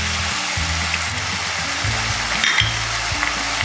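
Water poured into a pan of frying mung dal and peanuts, a loud close steady sizzle with bubbling and stirring noises throughout.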